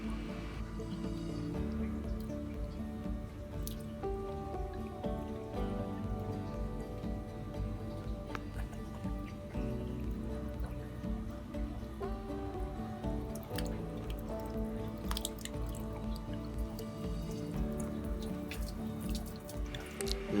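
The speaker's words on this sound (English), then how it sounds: "open the source where the water come out and let the water flow over the broad-crested weir" Water runs over a broad-crested weir in a laboratory flow channel, a soft continuous trickle and dripping wash at low level, steady throughout with no voices.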